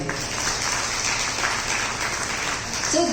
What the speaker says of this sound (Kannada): ಒಂದು ದೊಡ್ಡ ಚಪ್ಪಾಳೆ ಬರಲಿ